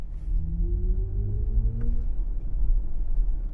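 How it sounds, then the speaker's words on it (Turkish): A soft, synthetic engine hum from an electric Mini Cooper SE in sport mode rises steadily in pitch, like a car accelerating, under low road rumble. "Bu araç spor modunda gaza bastığınız zaman içeri motor sesi veren ve sizi yani gaza getiren bir şey."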